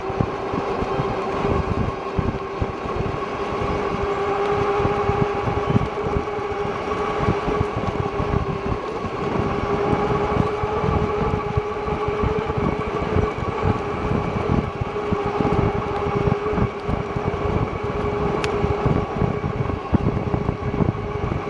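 AULOOR (EUYBIKE) F9 e-bike at full throttle on a ride, a steady electric motor hum with tonal whine layered over continuous buffeting wind and road rumble, close and sustained with no talking.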